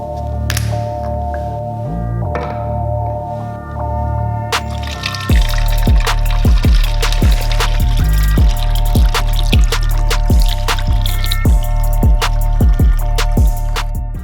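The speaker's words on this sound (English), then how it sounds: "fill it up with 32 ounces of distilled water" Distilled water pours into a 32 ounce bottle, a steady splashing stream over a constant electrical hum, with repeated gurgles and rising filling tones as the level climbs.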